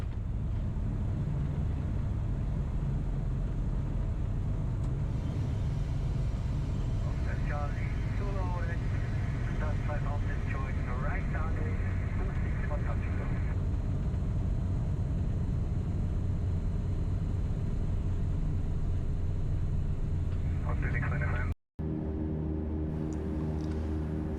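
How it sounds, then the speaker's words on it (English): A Tecnam P2006 twin-engine light aircraft lands on runway 26 at Birrfeld, its steady engine and cabin drone filling the whole stretch, with muffled voices heard partway through. "this is actually the landing for the runway 26"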